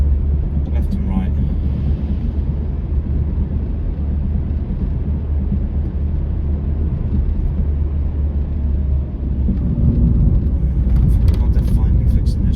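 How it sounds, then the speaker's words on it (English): A Peugeot 307 CC drives on a road in a small town, giving a steady low engine and road rumble throughout. It sits close and loud under the cabin noise, and people talk over it. "We're just doing some short drives."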